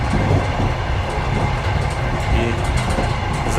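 Passenger train running on rails, heard from inside the last carriage: a loud continuous rumble with rhythmic clicking and clatter of wheels over the track joints, no talk.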